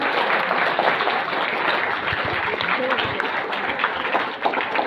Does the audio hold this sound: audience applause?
yes